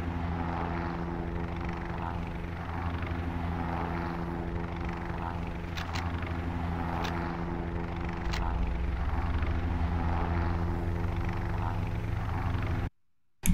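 A video game helicopter drones steadily with a low rotor hum, a few faint clicks over it, then the sound cuts off abruptly near the end.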